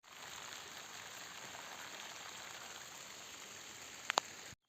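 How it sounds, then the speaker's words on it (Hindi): Steady rain falls in the mountains, an even, soft hiss of drops without pause, fairly faint, with a couple of brief clicks near the end and no voices. "पर मज़ा आ रहा है ऐसी बारिश में भीगने का"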